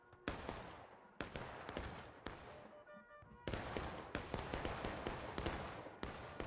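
Distant rifle fire in War of Rights, a large multiplayer battle, with many sharp reports cracking irregularly and near-continuously across the clip, scattered volleys overlapping into a crackling fusillade.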